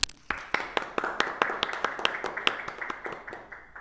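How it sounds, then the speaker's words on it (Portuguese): One person claps alone at a steady brisk rhythm, about a dozen sharp claps close to the microphone, fairly quiet, with no talking. "Como a gente está aqui só nós, eu vou fazer aqui a salva de palmas"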